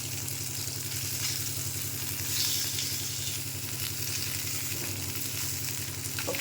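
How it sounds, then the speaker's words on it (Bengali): Fish frying in a pan, seasoned with turmeric, chili and salt, gives a steady close sizzle with crackling spatter, alongside a low constant hum and no talking. "আমার মাছ ভাজা এই যে হয়ে গেছে প্রায়"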